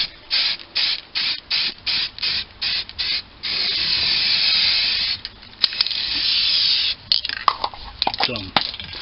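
Primer coat spray painted onto the underside of a 1946 Boxford lathe during restoration: a run of short close hissing bursts, then one long sustained spray, followed by more intermittent bursts with light clatter between them.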